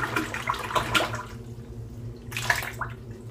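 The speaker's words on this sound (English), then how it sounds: "So I'll get my brush here, get it wet in the water." A shaving brush is dipped and swirled in water for a shave, giving two short bursts of sloshing and splashing separated by a quiet pause, close by, over a low steady hum.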